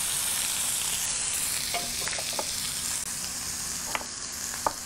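Mushrooms frying in olive oil in a pan, giving a continuous even sizzle close by, with a few soft clicks of a utensil against the pan and no talking.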